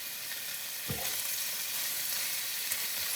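Meat fries in a pan with a continuous close hiss, and one dull thump near the start as a piece is moved.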